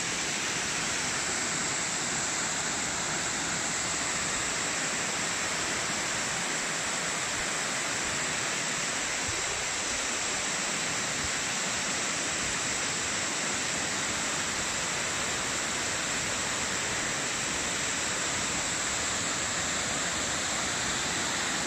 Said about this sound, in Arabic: هذا شلال مولينو